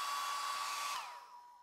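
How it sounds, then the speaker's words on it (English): A handheld hairdryer blows steadily and loud with a high whining tone, heating the border of a dbrand vinyl skin for a OnePlus 5/5T phone, then winds down as it is switched off near the end. "Grab your hairdryer and heat up the border of both the bottom and top pieces."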